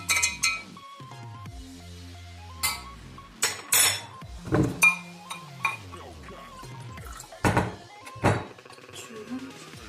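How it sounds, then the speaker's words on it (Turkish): A spoon stirring homemade lemonade, clinking and knocking against the container in several short bursts, with talk over the sounds. "Şimdi tekrar bir karıştırıp tadına bakacağım."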